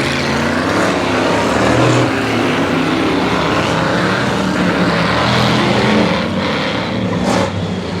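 Race cars compete at Grimley Raceway, their engines making a loud, continuous roar with rising and falling revs as cars pass close by, and no audible talk.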